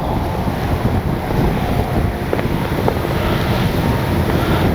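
Strong wind buffets the microphone in a constant heavy rush, with a low rumbling roar throughout, at an airfield where a radio-controlled OV-10 Bronco model plane is flown.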